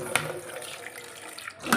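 Running tap water splashes into a kitchen sink as cut vegetables are dropped in, with a steady faint trickle, a sharper splash at the start and a louder gush at the end.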